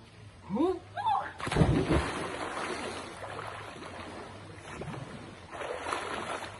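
A splash at an outdoor swimming pool at the foot of a mountain as people jump in, a loud burst of water around the middle followed by lighter sloshing, with excited voices calling out just before.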